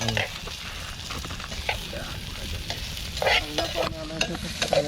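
Food crackles and sizzles as it is stirred in very hot oil in an outdoor forest camp kitchen, a dense continuous frying hiss with scraping stir sounds and soft talk in the background.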